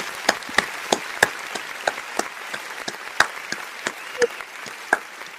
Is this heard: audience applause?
yes